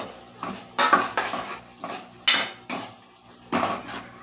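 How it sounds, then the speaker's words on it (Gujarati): Okra goes into a simmering masala gravy in a pan, bringing a string of sharp metal clinks and clatters from a utensil on cookware, several distinct bursts at an uneven pace, close and fairly loud with no talking. "હવે આપણે એમાં આ ભીંડા એડ કરી લેશું"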